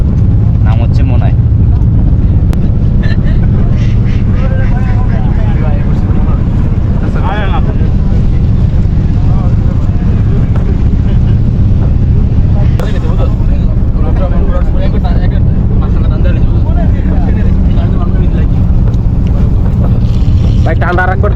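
A houseboat engine on Tanguar Haor drones loudly and continuously in a low register, buffeted by wind noise, with people talking over it throughout.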